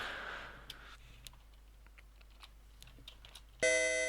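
Sparse computer keyboard typing, a few separate key clicks spread out at an irregular pace, faint and close against quiet background hiss, ending in a sudden loud tonal burst of game sound.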